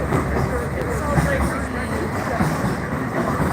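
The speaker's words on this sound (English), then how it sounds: "here comes one of the trains" A train rolls past on ground-level tracks with a steady, loud broadband rumble and rattle that holds throughout, close by.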